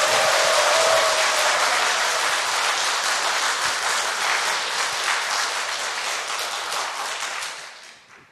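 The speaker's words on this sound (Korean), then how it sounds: "한번 쳐보세요. 박수." A church audience at a congregation-wide worship seminar clapping together, a loud, dense, steady wall of applause that holds for several seconds and then tapers off at the end.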